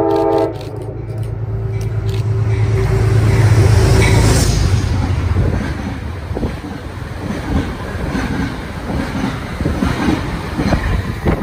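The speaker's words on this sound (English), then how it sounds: "Metro North's Beach Ball Heritage Unit number 208, leading a northbound train for Poughkeepsie" A Metro North northbound train for Poughkeepsie, led by Beach Ball Heritage Unit 208, passes on the Hudson Line: a horn sounds early, then a loud rumbling roll swells and fades with wind buffeting the microphone.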